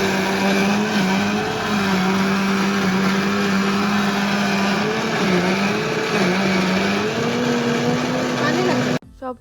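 A blender grinds spices for an outdoor picnic meal on a cold day, its loud, steady motor whine running continuously with a slightly wavering pitch, then cutting off abruptly near the end.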